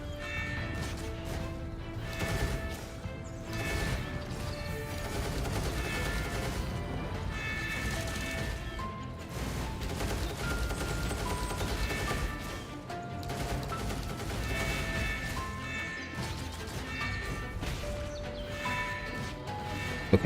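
A dense, continuous gunfire barrage in the video game Punishing: Gray Raven, rapid shots and impacts layered over loud game music for about twenty seconds without a break.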